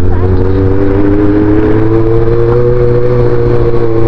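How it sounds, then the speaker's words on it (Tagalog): Steady road traffic on a busy Saturday near a hillside grotto in the Philippines, with a continuous low engine drone and rumble of many vehicles going by nearby, loud and unbroken throughout. "Daming sasakyan, no?"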